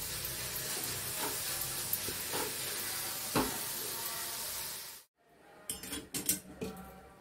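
Vegetables, paneer, masala and salt fry in a pan for capsicum rings, a loud steady sizzle with spoon scrapes against the pan, then a sudden cut to quieter clinks and stirring.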